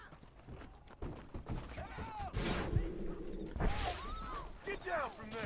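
Horse hooves clatter in the Western open-world game Red Dead Redemption amid an outdoor scuffle, with thumps and a whinny-like cry over someone talking throughout.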